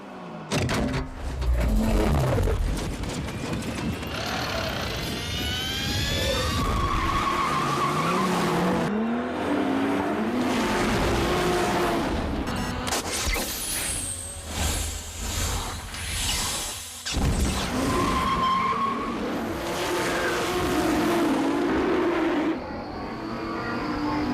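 Street race cars from The Fast and the Furious skid and squeal their tires, with revving engines, whooshing passes and screeching slides in a dense, loud film soundtrack mix.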